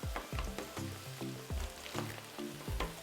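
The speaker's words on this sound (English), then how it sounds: "take my scraper here and I'm just gonna scrape this down, chop this" A metal scraper scrapes and chops cheesesteak meat on a hot Pit Boss Sierra griddle, with repeated sharp metallic scrapes and clanks over a steady sizzle, close and fairly loud, with no voices.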